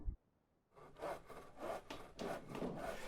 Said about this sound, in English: I think it's sawing.